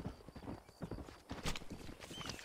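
Horse hooves clop unevenly in the video game Red Dead Redemption, with a brief whinny amid the trotting, fairly quiet and close.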